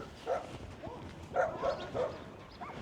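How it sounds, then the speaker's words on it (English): Puppies yip and bark a few times at a distance outdoors in a nearly abandoned small town, with short faint high yelps over quiet background noise. "Some puppy dogs."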